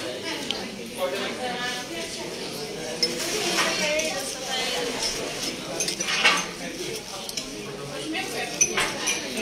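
A meal is eaten with plates and cutlery clinking in light, irregular taps and scrapes, close by, while people talk over it.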